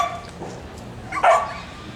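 A dog gives a short bark during an indoor obedience session, one sharp burst standing out from a low background of room noise and faint voices.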